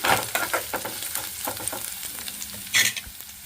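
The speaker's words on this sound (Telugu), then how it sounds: "ఆనియన్స్ కూడా ఫ్రై అయిపోయినాయి." Onions frying in oil with curry leaves and dried red chilies for chickpea guggillu, a close steady sizzle with frequent scraping stirs and a louder clatter near the end, no talking.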